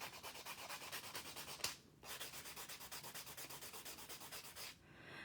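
Fast rhythmic rubbing of a buffer over dip-powder nails, close and even back-and-forth strokes in a steady pulse, briefly pausing once partway through.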